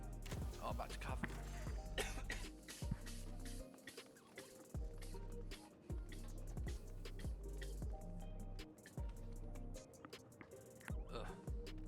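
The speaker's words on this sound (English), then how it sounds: "Oh, I'm about to cough." A person coughs and clears their throat in a few sharp bursts, close to the microphone, over steady background music from the Final Fantasy XIV game.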